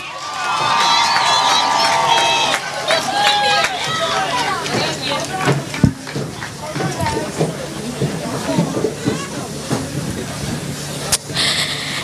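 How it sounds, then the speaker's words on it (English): A large crowd at a high school commencement ceremony applauds and cheers for the top graduates, a loud continuous wash of clapping and voices that gradually thins into scattered claps and murmurs. "Let's give them a round of applause."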